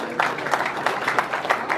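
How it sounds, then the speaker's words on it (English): An audience at a film festival awards event gives a team a round of applause. The clapping is a continuous crowd patter with a few louder hand claps standing out at regular intervals. "Folks, big round of applause to the team."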